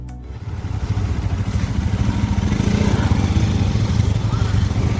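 A motorcycle engine runs steadily and loudly up close on a road trip, a continuous throbbing drone that holds from start to finish.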